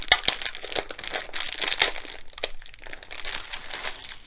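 A sealed plastic bag of diamond painting drills with very strong glue is pulled open, giving a close, continuous crinkling and crackling of plastic with sharp snaps throughout.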